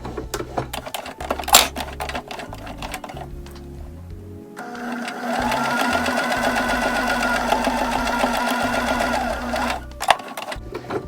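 A sewing machine runs a straight stitch and a reverse stitch on a homemade bucket hat, starting with a few clicks and then a steady, loud mechanical whir lasting several seconds before it stops.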